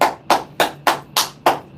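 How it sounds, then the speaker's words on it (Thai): Hands clap six times in a steady, evenly spaced rhythm, each clap sharp, close and loud, with quiet gaps between and no talking. "ขอปรบมือให้กับทุกท่านนะครับ"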